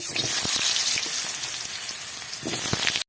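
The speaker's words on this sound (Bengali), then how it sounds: "মাঝারি ধরনের আলুগুলোকে ছোট ছোট সাইজের কেটে নিয়েছি এই যে দিয়ে দিচ্ছি" Small cut potato pieces drop into hot oil and frying crackles rise, a close, dense sizzle with scattered sharp pops and no talk.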